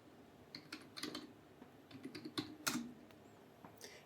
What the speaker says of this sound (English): So let's go ahead and type in dashboard.